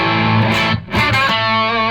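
An electric guitar with a heavier distorted rhythm tone plays thick sustained chords with a brief choppy break in the middle, loud and up front.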